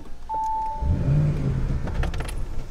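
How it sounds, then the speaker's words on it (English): Keys jangle briefly before a 600-horsepower Audi RS7 starts up, its engine catching with a low, throaty gurgling rumble that settles into a steady idle, heard close from inside the car. "You hear a little bit of a gurgle as it turns on."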